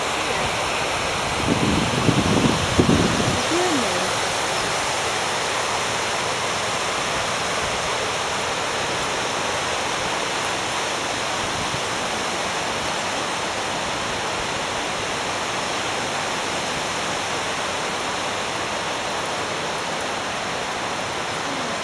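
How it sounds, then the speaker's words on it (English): Water rushes steadily down the river at Watersmeet in North Devon, a loud, continuous broadband roar close by, with a brief bump of handling noise near the start. "Look at that water rushing down."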